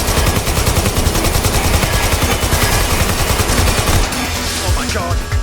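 Sustained rapid automatic gunfire in Watch Dogs Legion, loud and dense with a fast regular rhythm. It eases off near the end as other game sounds take over.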